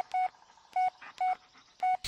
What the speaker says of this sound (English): This is an old school phone. Look how old this phone is.